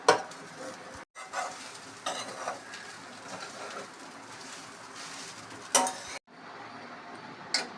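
Cooked ponni rice being mixed with sautéed coconut in a pan, heard as a steady scraping, stirring rustle with sharper bursts of spoon and pan contact, close and moderately quiet, with no talk.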